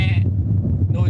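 Goats bleat close by at a farm, two brief wavering cries at the start and end over a low rumbling background.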